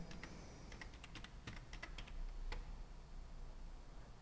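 Computer keyboard keys pressed in a quick irregular burst of clicks, then a few isolated taps with pauses between, close and moderately quiet against a faint room hum.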